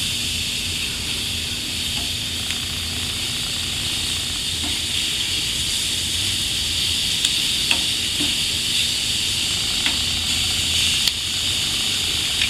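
Jerk chicken sizzles steadily on a PK grill as the pieces are turned over, a constant near hiss and crackle with faint scrapes and light clicks running throughout, no voices.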